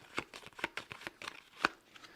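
Command cards from a board game are shuffled by hand in a quick run of crisp riffling snaps, close and fairly quiet, with no talk.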